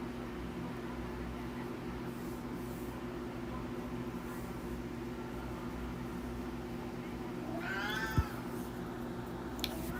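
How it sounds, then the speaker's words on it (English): A cat meows once near the end, a short rising and falling call standing out over a steady mechanical hum and faint background noise. "what you meowing at?"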